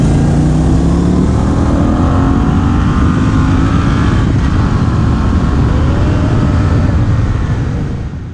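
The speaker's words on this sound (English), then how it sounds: "We also took it upon ourselves to have a little drag race along the way to the campsite." Triumph Street Twin motorcycles roar loud and close in a road drag race in Scotland, their engines climbing steadily in pitch under heavy wind rush before easing off at the end.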